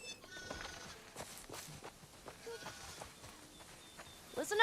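Sheep bleat in The Last of Us video game, several short, fairly quiet calls scattered over a farm setting with light clip-clop and background sounds.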